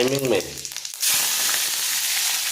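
Panch phoron spices drop into hot oil and burst into a bright, continuous sizzle close to the pan, preceded by a brief voice.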